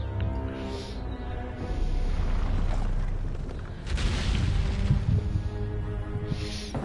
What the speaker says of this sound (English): Hit him with the bazooka.